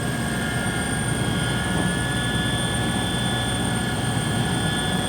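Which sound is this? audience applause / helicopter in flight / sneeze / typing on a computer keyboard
helicopter in flight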